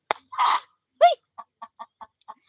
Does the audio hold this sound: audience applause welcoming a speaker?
no